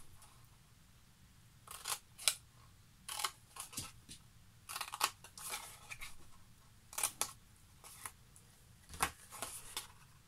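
Scissors cut a bevel along a cardboard fold while making a chocolate box, giving a series of close, crisp snipping strokes in uneven bursts with short pauses, and no talking.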